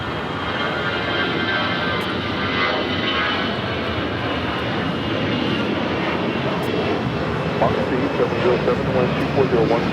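El Al Boeing 787-9 Dreamliner in retro livery at LAX, bound for Tel Aviv: a steady, loud broadband jet engine roar that holds evenly throughout, with a commentator's voice running underneath.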